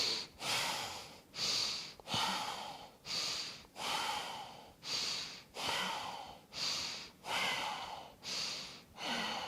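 Deep rhythmic breathing during a yoga session, about ten slow, close, airy breaths in steady succession, each a broad rushing sound with brief gaps between, and no talking.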